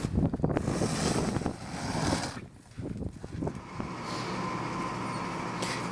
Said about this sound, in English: It's too cold out here. It's windy too